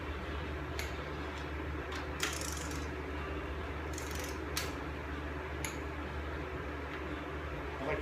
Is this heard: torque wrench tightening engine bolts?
yes